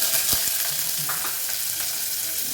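Curry leaves and onion fry in hot oil for a kadalekaalu usuli, a loud, steady crackling sizzle up close with a couple of faint stirring taps and no talking.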